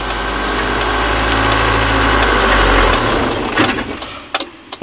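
A car engine strains and dies during a clutch plate test as the clutch is slowly released with gas and brake pressed together, a loud, low rumble that sags and cuts out, followed by a few clunks.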